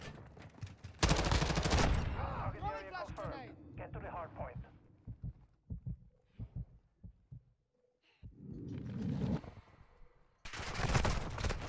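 Rapid bursts of light machine gun fire from the 5.56 ICARUS in Modern Warfare 2, loud and close, with one burst early and another at the end and someone talking between them.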